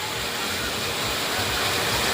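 Water rushes down a swimming pool water slide in a constant, loud, even roar that fills the whole stretch without a break.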